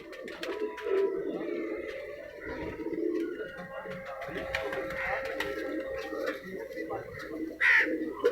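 Soft, low coos of Loha breed pigeons murmur in the background while people talk nearby throughout.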